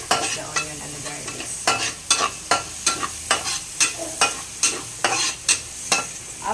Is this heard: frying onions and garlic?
yes